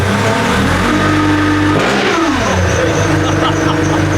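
A supercharged ZD30 Nissan Patrol diesel revs hard up close, its loud supercharger whine and throaty exhaust dropping briefly in pitch before climbing again, sustained and steady.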